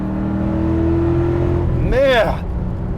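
A 2000 Ford Mustang SVT Cobra R's naturally aspirated V8 idles with a steady low drone, then a single sharp rev swells and falls near the end, with a voice speaking in the clip.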